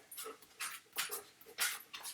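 A puppy whimpering in a quiet room, a series of soft, high whines and squeaks repeating about every half second, faint and close with no talking over them.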